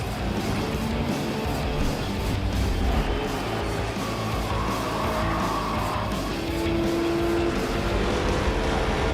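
Ram truck Hemi V8 revving loudly and continuously at a NASCAR Truck Series race at Pocono, a close, sustained roar.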